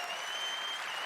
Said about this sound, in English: giving him a well-deserved round of applause